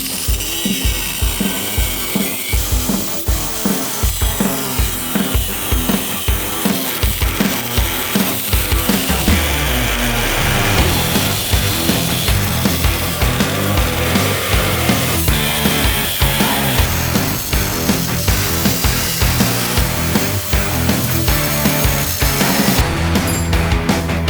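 Metal being cut and ground on a Porsche 997 chassis during a rotary engine swap, a dense, continuous rasping and ratcheting mechanical noise running loud and steady throughout with no talking.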